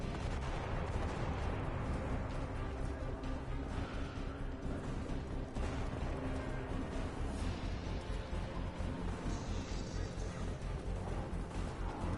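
Sustained gunfire and explosions rumble through a Mass Effect 2 firefight, a loud and continuous barrage of shots and blasts, with brief voices mixed into the din.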